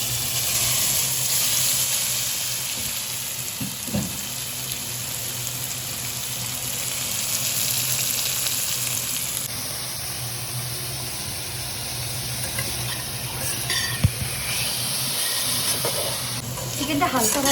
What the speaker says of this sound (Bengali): তেলটা গরম হয়ে গেছে, এবার চিকেনগুলো ভেজে নিই।